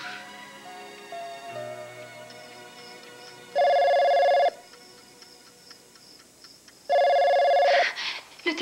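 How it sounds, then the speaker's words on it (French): A telephone rings twice in an indoor scene from a 1990 French film, two loud sustained ringing bursts separated by a quieter pause with faint background sounds. "Le téléphone."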